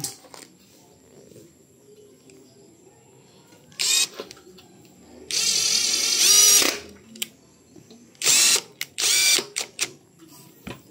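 Screw driven by a power driver into an aluminum sliding window frame (798 series perimeter frame), in several loud whirring bursts of a second or so with quiet gaps between.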